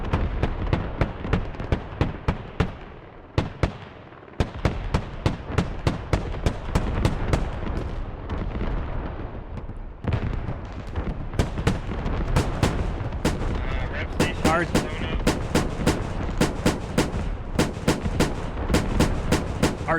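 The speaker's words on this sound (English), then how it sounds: "Artillery has just about concluded." A sustained artillery barrage in the military shooter Squad, a dense series of loud booming impacts and blasts rolling one after another for the full stretch, with a brief lull midway and no voices over it.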